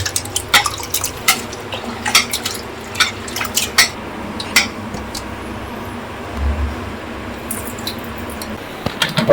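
Lentils rinsed in water in a home kitchen, with irregular splashes and drips sounding close and clear against a quiet background.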